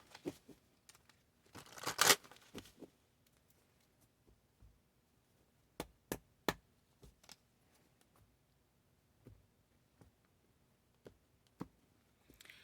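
Tarot cards are shuffled by hand in a quiet room, giving faint, sparse papery clicks and taps with one brief, louder riffling burst near the start and scattered soft flicks afterward.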